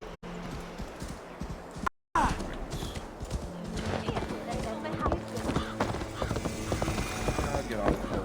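Horse hooves clip-clop steadily along the streets of Jorvik in the game Assassin's Creed Valhalla, a rhythmic, close clatter after a short gap, with a voice talking over it.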